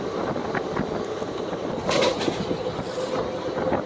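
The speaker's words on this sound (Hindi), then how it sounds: "Ghost train versus passenger train. Same speed crossing." Two trains, one of them a passenger train, pass each other at the same high speed on the Mathura–Delhi rail line, with a steady loud rumble of wheels and a brief rush near the midpoint as they cross.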